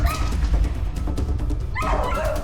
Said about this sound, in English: I can tell a lot from a dog's bark based on the pitch, energy, and intent.